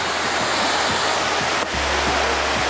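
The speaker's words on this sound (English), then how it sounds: "We just got to the last waterfall now." A waterfall in a Welsh cave pours with a loud, continuous rushing roar of falling water, close by and steady, with no voices over it.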